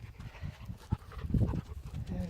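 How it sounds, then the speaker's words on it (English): Dogs pant and shuffle close by on a mountain trail, with soft breathing, rustling and scuffing steps under a faint outdoor background. "And the dogs have come to see too."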